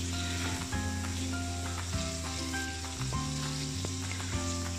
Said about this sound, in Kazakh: Етті әбден қуыру керек.